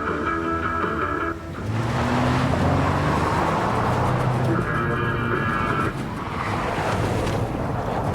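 An old pickup truck idles in the video game Life Is Strange: Before the Storm, a steady low engine rumble with a wind-like whoosh, mixed with game music tones throughout.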